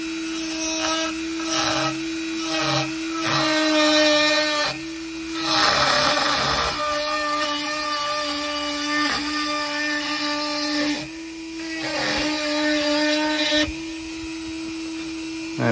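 Dremel 4000 rotary tool spinning a Kutzall burr as it carves wood for a birdhouse roof, a steady high whine with grinding bursts that rise and drop as the burr bites in and eases off, close and continuous.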